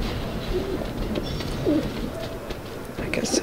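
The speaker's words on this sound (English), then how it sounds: "Hello, little pigeons." Pigeons coo in a coop in the video game Alice: Madness Returns, soft, low, intermittent calls set under a steady ambient background and quiet voices.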